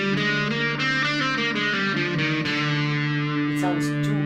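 A Locrian mode scale played on electric guitar through distortion and echo effects, notes stepping in sequence with sustained, saturated tone and a final ringing note, close and loud.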